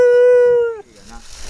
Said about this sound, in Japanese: この犬なんかトサとピットブル入ってて